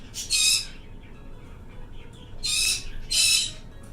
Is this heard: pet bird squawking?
yes